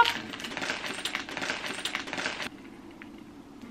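Keys jangle and rattle inside a bag in a dense metallic clatter for about two and a half seconds. The noise then drops to a faint, quieter rustle.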